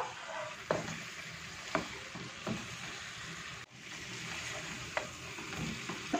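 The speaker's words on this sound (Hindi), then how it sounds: "आधा कप इसमें लाल आटा शामिल कर देंगे इसे अच्छी तरह से भून लेंगे" Red flour being stirred and roasted in a pot for beef nihari, a continuous soft sizzle and frying hiss with occasional scraping stirs of a spoon against the pot, close and moderately quiet, no talking.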